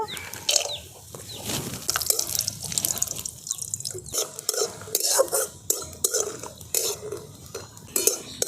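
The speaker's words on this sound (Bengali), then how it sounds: "তো প্রথমে এই বড়িগুলোকে ভেজে নেব।" Homemade lentil dumplings (bori) fry in hot oil, a dense, crackling sizzle with scattered pops and bubbling that runs steadily and close throughout.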